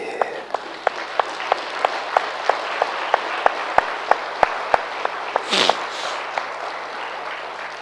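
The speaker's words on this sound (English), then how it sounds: "Just clap loudly." A group at a yoga and concentration session claps loudly in a steady, evenly spaced rhythm, each sharp clap standing out above a dense wash of applause, with a brief whooshing noise near the end.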